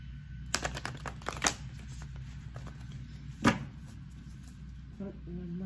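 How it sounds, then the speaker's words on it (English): A deck of Work Your Light oracle cards being shuffled by hand, a quick cluster of riffling flicks early on followed by a single sharp slap and quieter handling, close, with a soft voice near the end. "Shuffle. We're going to look at the Work Your Light deck."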